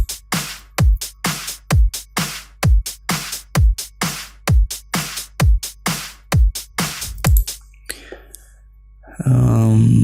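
An FL Studio drum beat with a hi-hat added, built from regular punchy kick hits with crisp bright ticks on top in a steady loop, loud and close, ending abruptly with a burst of other sound.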